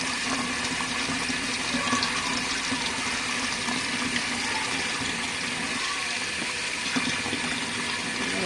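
Water rushing steadily into an RV washing machine as it fills during a standard-mode main wash, a constant hiss and splash close at hand with no voices.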